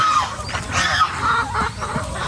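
Chickens, turkeys and geese cluck, squawk and chatter close by, a mixed flock of birds calling over one another.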